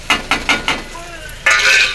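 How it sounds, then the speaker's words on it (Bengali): Potato, onion, green chili and grated ginger fry in a pan for chira pulao, with four quick, close scraping stirs of a spoon followed by a louder burst of sizzling, and no talking. "এরপর আমি ভালো করে এগুলো সব ভাজা ভাজা করে নেব।"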